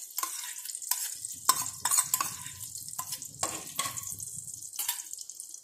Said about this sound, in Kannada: ಈರುಳ್ಳಿ ಅಂತ ಫ್ರೈ ಮಾಡ್ಕೊಳ್ಳಾಗಿದೆ.